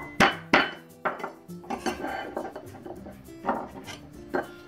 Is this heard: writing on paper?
no